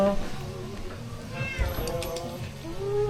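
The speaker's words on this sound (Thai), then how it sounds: "ข้างในมีแมว" Cat meowing inside a cafe in a pine forest, soft meows mixed into a busy, murmuring room with background voices and clatter.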